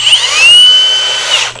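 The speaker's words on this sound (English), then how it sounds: "And that's how the drill works." A cordless power drill on its drill setting, used for tiny-house carpentry, spins up in one short, loud, close burst with a high whine that holds steady, then winds down.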